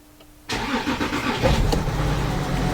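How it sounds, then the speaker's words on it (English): An Audi Q7 diesel engine cranks and catches after a brief quiet moment, then settles into a loud, steady rumble close by. "So now I'm gonna start the engine."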